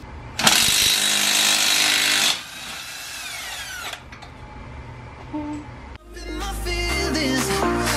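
A power tool undoes the shock bolt on the strut top of an R53 car: a loud, steady buzzing burst of about two seconds, then quieter, shorter whirring runs with clanks.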